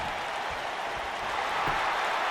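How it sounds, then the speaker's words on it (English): A wrestling arena crowd in WWE 2K19 roars steadily, a broad wash of cheering and clapping that holds at an even level throughout, with no talk over it. "The crowd is on their feet. They're rooting for this young rookie we have here tonight."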